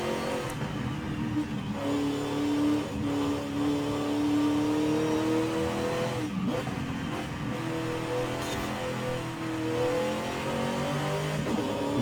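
A fast racing car engine in a racing video game revs and drones continuously at close range, its pitch climbing and falling as the car accelerates and brakes, loud and steady throughout.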